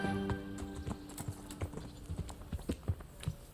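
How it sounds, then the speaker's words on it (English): Hooves clip-clop in a quick, uneven rhythm, several horses trotting close by over a faint hum, in the video game Kingdom Come: Deliverance. "Get your horses mounted up and let's ride out."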